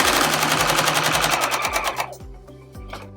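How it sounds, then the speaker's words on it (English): A sewing machine reverse-stitching across a tote bag seam gives a fast, steady mechanical rattle that slows near the end into a few separate clunks. It is close and even, with no talking. "so reverse stitch over it again, and then go over it once more."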